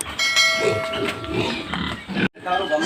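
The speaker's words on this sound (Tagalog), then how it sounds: "Simulan na nila pagkuha ng mga baboy" Pigs on a farm being rounded up and caught for harvest, a dense chaotic mix of squeals and grunts with harsh tonal shrieks, loud and continuous with a brief break near the end.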